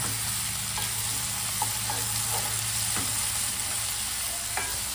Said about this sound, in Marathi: एक मोठ्या साईजचा टोमॅटो घेतलेला आहे चमाट मस्तपैकी मिक्स करून घ्यायचं आपल्याला